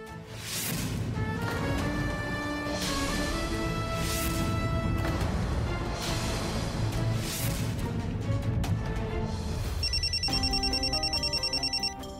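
A telephone rings on and on without being picked up, a bright repeated bell over loud dramatic background music in a Marathi TV serial scene.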